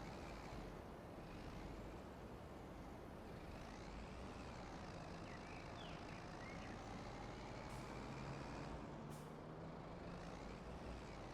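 A tractor pulling a roller in the farming game Farming Simulator 25 gives a steady, loud engine drone with rumbling low end that carries on unbroken, with no talking.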